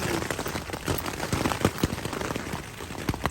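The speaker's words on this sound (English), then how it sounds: "It's a mixture of rain and hail." Rain and hail fall on a tent, a steady close patter of drops punctuated by sharper distinct hits on the fabric, with no one talking.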